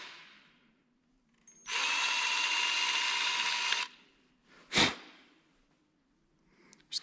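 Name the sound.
drilling into a metal part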